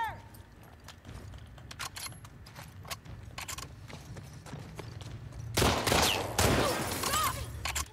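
Gunfire in The Last of Us Part 2, a few sharp scattered shots over low rumbling game ambience, with a louder burst of cracks and clatter near the end.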